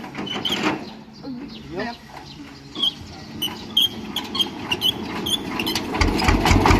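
A mid-sized engine cranks, catches and settles into an uneven idle, with voices talking over it and the running engine growing louder toward the end.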